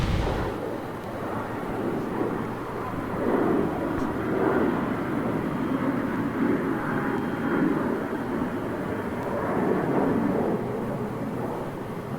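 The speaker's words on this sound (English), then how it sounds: "we go outside now and catch the engine spooling up" A Boeing 777-200 jet engine spools up in the X-Plane 11 flight simulator, a loud, steady, broad roar that holds for the whole stretch with slight swells and no talk.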